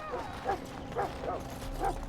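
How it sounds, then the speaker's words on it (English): Dog in the Dragon Age: Origins video game giving repeated short barks and whines, four yelps spaced roughly every half second, fairly close over a steady low game ambience. "All right, I'll go check on the dog."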